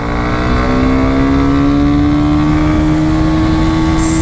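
A Bajaj Platina 110 motorcycle accelerates hard in first gear, its engine note rising steadily in pitch as it revs, loud and close throughout.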